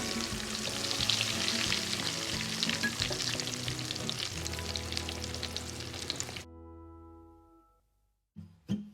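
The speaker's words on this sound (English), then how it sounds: "so frying them and then frying the breads which we have done earlier" Spring rolls sizzle and crackle steadily in hot oil, then the sizzling stops abruptly, leaving a low hum and a couple of clinks.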